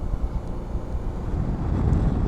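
Strong wind at the Stegastein mountain viewpoint above Aurlandsfjord in Norway buffets close to the microphone as a continuous, loud, low roar. The gusts swell unevenly and grow slightly stronger toward the end, with no voices.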